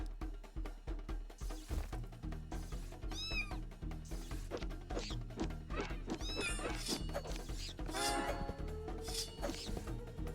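A cat boss in the video game DUNJUNGLE gives repeated loud meows and wailing yowls over a driving, rhythmic game soundtrack, the cries bunching up toward the end.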